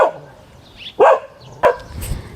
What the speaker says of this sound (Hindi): इतना भौंक रहा है।